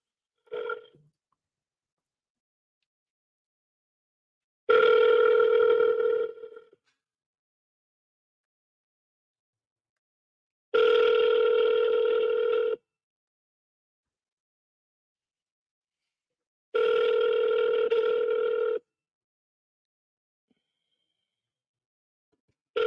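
A phone call rings out after a redial: about two-second bursts of ringback tone repeat roughly every six seconds, separated by silence, clear and close as if heard through the handset.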